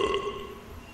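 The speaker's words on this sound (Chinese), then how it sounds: "还打嗝了" One short, deep burp from a character in the horror video game DreadOut, close and fairly loud, tailing off quickly with nobody speaking over it.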